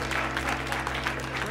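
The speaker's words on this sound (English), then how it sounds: "Give him a round of applause." Audience applause at a mentalist's stage show, a short stretch of steady clapping from the crowd lasting under two seconds, with a low hum beneath.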